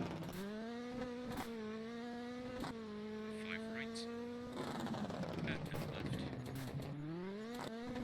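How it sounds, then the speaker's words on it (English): A car engine in a rally video game drones and revs, its pitch climbing and dropping through gear shifts, with a voice talking intermittently over it. "It's a car going backwards"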